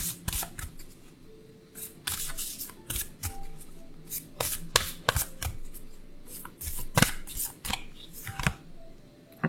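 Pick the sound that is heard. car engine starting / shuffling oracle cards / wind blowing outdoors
shuffling oracle cards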